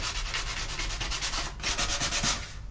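Sandpaper, 150 grit, rubs back and forth over wooden window trim, a steady close scratching of repeated strokes with a short pause midway and no talking.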